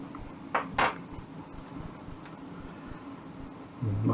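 A spoon scrapes and clinks against a pan of macaroni cheese, two quick metallic taps near the start and a soft scrape toward the end over a quiet kitchen background.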